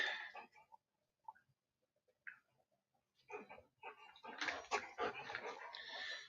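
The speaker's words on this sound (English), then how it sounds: "This is my parents' dog." A dog whimpers and makes soft vocal noises close by in a quiet workshop at night, starting with brief whines and building to louder, busier yelping toward the end.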